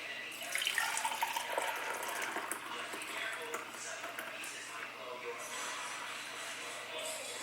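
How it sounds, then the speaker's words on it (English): Vegan hot chocolate being poured, a steady liquid stream trickling close by for several seconds, slightly louder at the start, with faint background noise. "Now I'm just going to go ahead and pour us up some of our delicious vegan hot chocolate"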